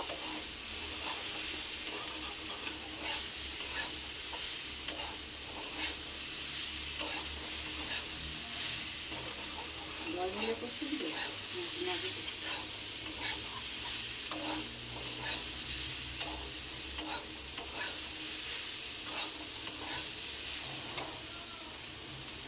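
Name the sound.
cauliflower frying with turmeric in pan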